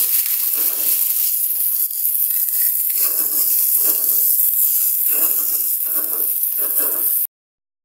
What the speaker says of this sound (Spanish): con el aceite bien caliente y aquí voy a empezar a freír mi arroz